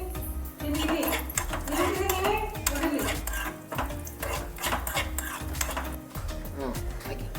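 Cashews and raisins fry in a pan while a metal spoon scrapes and clanks busily against it, a dense run of rhythmic stirring knocks over a faint sizzle, fairly loud and close.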